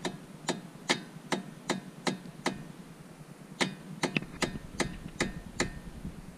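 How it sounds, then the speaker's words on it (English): A hammer taps a tapered part out of a Brembo brake assembly with a dozen or so sharp metallic strikes, evenly spaced in two bursts separated by a short pause, close and crisp. "one more tap for good measure."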